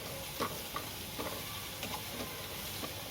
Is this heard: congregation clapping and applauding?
no